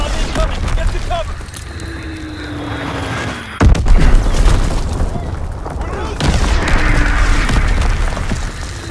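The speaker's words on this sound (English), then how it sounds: "Enemy mortar fire incoming." Enemy mortar fire in the war shooter Call of Duty: WWII, sharp booming impacts and thumps with a whistling descent amid ongoing battle noise, one loud blast midway and another later.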